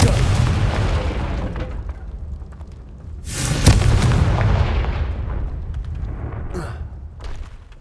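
A Confringo spell blast in Hogwarts Legacy, heard as a deep booming explosion with a crackling burst midway, set within rumbling game action and rolling low-end noise.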